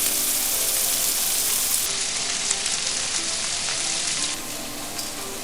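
Prawns fry in hot oil in a pan for a Bengali malai curry, a dense continuous sizzle with light crackling that holds steady throughout.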